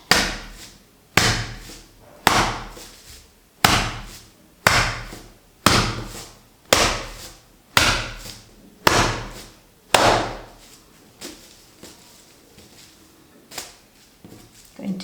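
Wet felt being roughly fulled, slammed down hard on a surface again and again at a steady pace of roughly one thump per second, each heavy wet slap loud and close, with no voices.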